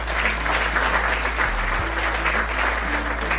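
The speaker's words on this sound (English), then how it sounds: "Can we give a round of applause to UNFPA?" A crowd at a young feminists' conference in a South Sudanese village applauds UNFPA, steady sustained clapping over a low constant hum.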